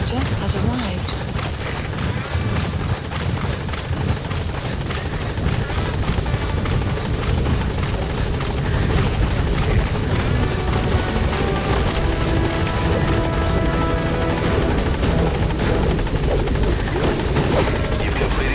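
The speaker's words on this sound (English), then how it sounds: "Support helicopter has arrived." Loud, continuous support helicopter rotor thrum arriving in Metal Gear Solid V: The Phantom Pain, under game audio and radio-style voices, holding steady throughout.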